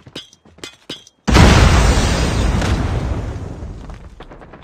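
A frag grenade explodes in a Call of Duty match, a sudden loud, deep boom after a few short clicks, its rumble fading slowly over several seconds.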